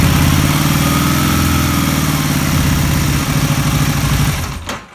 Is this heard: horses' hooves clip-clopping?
no